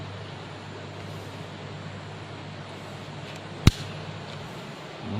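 A subsonic air rifle firing a Canon Rocket pellet gives a single sharp, brief crack midway through, over a steady low background hum.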